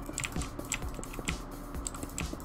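Rapid computer keyboard typing, a steady run of crisp key clicks with occasional heavier strokes, close and fairly loud, over a faint background hum during Minecraft play.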